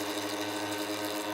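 A blender motor running steadily while drawing water out, a continuous close mechanical whir with a constant hum and no pauses.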